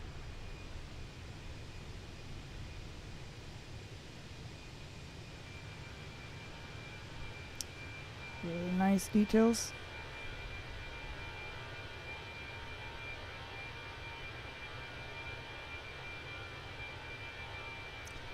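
A steady, even jet engine drone from an EasyJet airliner in Microsoft Flight Simulator 2024 runs the whole time, with a brief spoken remark partway through.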